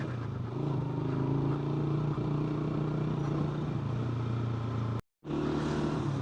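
A motorcycle engine labors steadily in first gear, climbing the steep, high-altitude mountain road toward Babusar Top, a loud continuous drone that cuts out briefly near the end and then resumes.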